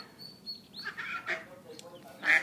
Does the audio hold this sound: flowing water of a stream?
no